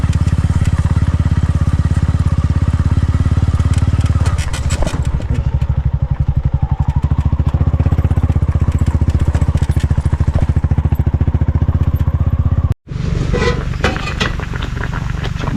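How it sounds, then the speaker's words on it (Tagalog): A grass cutter engine runs loudly and steadily with a buzzing drone, briefly cutting out near the end before starting up again. "Puro grass cutter yung gagana."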